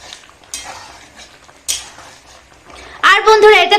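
A spoon scrapes and clatters in a pan while vegetarian village-style jackfruit curry with kalai dal and garam masala is stirred, a few distinct knocks followed by a voice speaking over the cooking.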